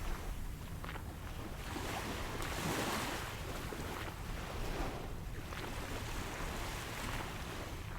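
Ocean waves wash onto Sunset Beach in a steady, broad roar with gentle surges, mixed with wind noise and no voices.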